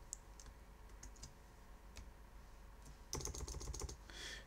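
Typing on a computer keyboard while entering a colour value: a sparse run of faint key clicks, then a denser quick burst of keystrokes near the end, all close and quiet with no talking.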